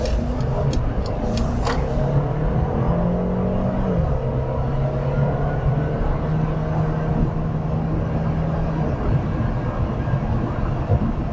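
A 2021 Mercedes-Benz CLA 250 4MATIC accelerating hard in sport mode while merging into traffic, its engine drone rising steadily in pitch and then holding a sustained, loud interior hum over road noise.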